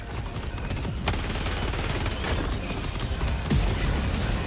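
Rapid bursts of cannon and gunfire in Helldivers 2 crack over a steady dense background, with a couple of sharper booming hits standing out.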